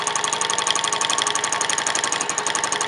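A sewing machine running steadily at speed during free motion quilting on a jelly roll quilt, its rapid even needle chatter loud and close with no talk.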